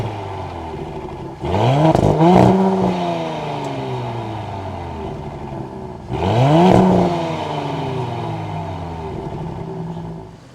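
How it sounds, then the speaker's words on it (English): The active exhaust on a 2024 Audi SQ5 is revved twice, each loud, close blip rising sharply and then falling away into a burbling idle. "this is an active exhaust system, so it sounds absolutely incredible."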